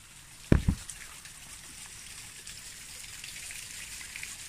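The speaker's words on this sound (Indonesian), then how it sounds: "Ada air terjun." Steady rushing water hisses evenly in the background, with two brief thumps near the start.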